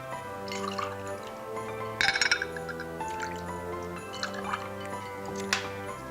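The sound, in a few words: pouring Knob Creek bourbon into a cocktail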